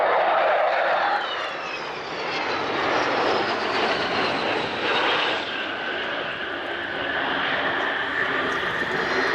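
The Avro Vulcan XH558 delta-wing jet bomber passes at the RAF Waddington airshow in 2014. Its jet engines make a loud, steady roaring rush that fills the whole stretch, with a faint howling whine on top.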